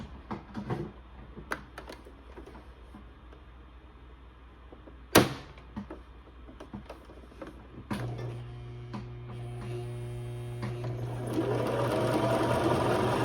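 After some scattered clicks and one sharp knock, a sewing machine starts running, settling into a steady, close mechanical hum that grows slightly louder toward the end.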